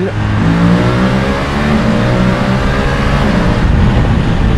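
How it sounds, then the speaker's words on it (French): A BMW F850 GS motorcycle engine revs continuously at high speed, a loud, steady roar climbing through 3000 to 6000 rpm with a harsh, buzzing exhaust note. "Ce qui est sympa, c'est que ce moteur il monte vraiment dans les tours."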